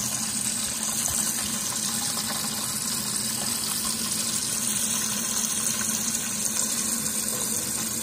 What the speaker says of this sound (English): And now it'll fill back up just like a toilet will